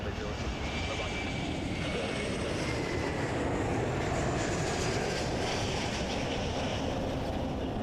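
A jet airliner powers down the runway on its takeoff roll at Toronto Pearson Airport, a steady, loud broadband engine roar that holds level throughout, with faint radio chatter beneath.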